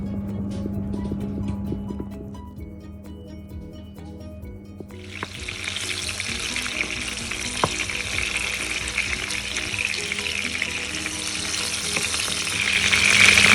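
Tomato quarters sizzle and spit in hot oil, a loud steady frying hiss that rises sharply partway through and keeps building, with faint clinks and stirring underneath.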